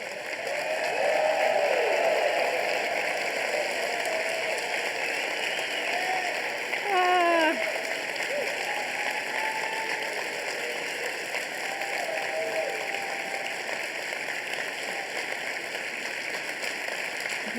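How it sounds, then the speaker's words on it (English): An audience gives a standing ovation, with sustained, dense applause that runs loud and steady throughout and swells briefly midway, mixed with crowd murmur and a few voices. "let's do that standing ovation."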